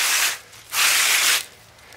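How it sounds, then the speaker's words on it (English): A garden hose sprays water onto freshly harvested lettuce outdoors in two hissing bursts, the second one longer, close and fairly loud with no talking. "spraying it with the hose"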